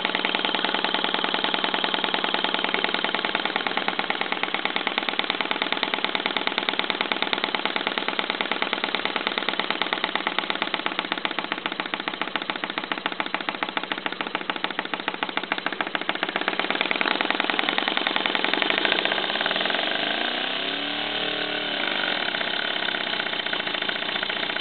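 Stuart V10 steam engine, built around 1978, running with a fast, even mechanical beat that stays steady for a long stretch before its tone shifts near the end.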